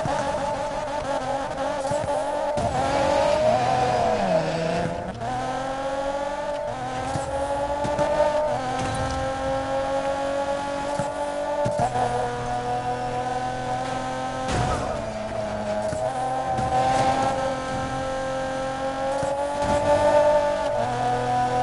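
Engines and squealing tires from a car race in a video game, a continuous loud stream of revving motor whine rising and falling in pitch with brief skids, heard alone without talk.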